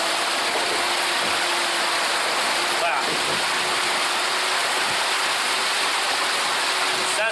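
Boat wake splashing close to the water surface, with a dangling strap flicking up a little spray; steady broadband rushing and splashing throughout, with a brief spoken word near the end.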